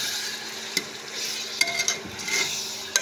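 Chicken liver with salt roasts in a pan, giving a steady moderate frying hiss broken by a few sharp spoon scrapes and clinks as it is stirred, close by and with no voices.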